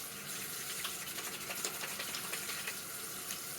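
Tap water runs steadily into a sink while hands are washed under it, a continuous close hiss with small splashy fluctuations and no talking.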